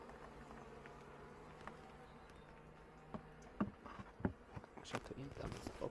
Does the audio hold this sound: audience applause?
no